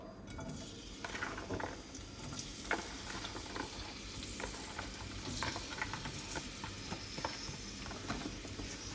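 Merguez sausages fry in oil in a small wok with a continuous crackling sizzle, moderately quiet and close, while light scrapes and clinks of a utensil against the pan come and go throughout.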